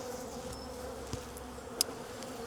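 Angry honey bees from a hive being requeened buzz around a beekeeper, a steady close drone of many insects with a couple of brief ticks.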